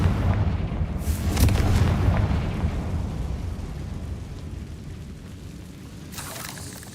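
In the video game Hogwarts Legacy, a Confringo spell bursts in a loud, booming blast that rolls out and slowly decays, followed by a fainter second whoosh near the end.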